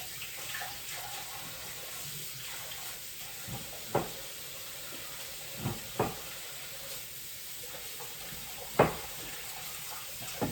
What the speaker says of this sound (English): After I wash my hands because I got meat all over it.